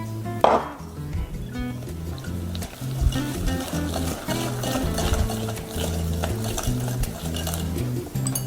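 Cake batter of all-purpose flour and buttermilk for a chocolate cake is stirred and mixed in a bowl, with repeated scraping and clinking of the utensil against the bowl.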